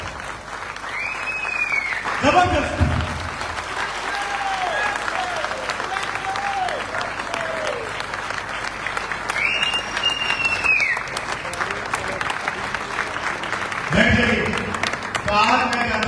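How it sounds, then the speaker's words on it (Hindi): A seminar audience seated in a tent at an IMC network marketing event rises for loud standing applause: dense, sustained clapping fills the whole stretch, with a voice speaking over it near the start. "खड़े होके जोरदार ताली बजाइए।"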